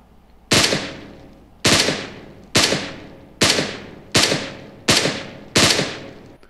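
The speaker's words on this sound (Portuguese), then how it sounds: "Vou dar alguns tiros e vamos ver se vai demorar ou não." Seven sharp, loud gunshots from the video game PUBG, played through Lenovo QT82 earbuds, fired singly at roughly one-second intervals, each with a brief decaying tail, no talking.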